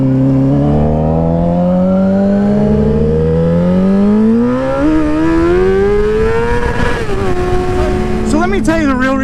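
Motorcycle engine running loud and close while riding, its pitch sweeping steadily upward as it revs and accelerates, then dropping and wavering in a rougher stretch near the end.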